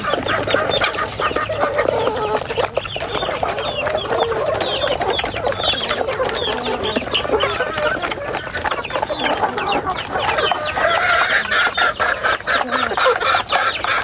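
Dense clucking from many chickens at a fishpond farm, a busy continuous chorus of short calls close by with no talking.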